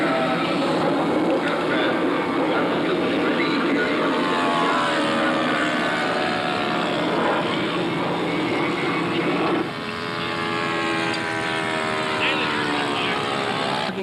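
A Yellow Products SR-71 scale model jet flying at the 1989 US Scale Masters sends out a sustained loud whining roar whose pitch slowly slides and shifts as it moves through the sky.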